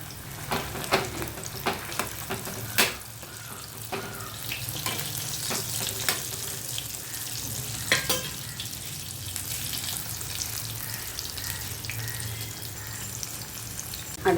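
Modakam sweets fry in hot oil with a constant close sizzle and bubbling, punctuated by sharp clinks and taps of a utensil turning the pieces.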